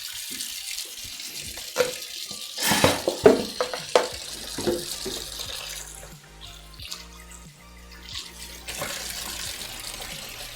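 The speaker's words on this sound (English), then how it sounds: "I'm going to fill the sink up. 2 seconds, guys. Just get the hot water going." Hot water tap running into a kitchen sink, a steady gushing flow with splashing and a few knocks and clatters of dishes, close and moderately loud throughout.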